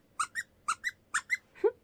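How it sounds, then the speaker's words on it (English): A squeaker inside a crocheted amigurumi frog toy gives seven short, close squeaks in three quick pairs and a final lower squeak, clear and alone. "They have squeakers in them."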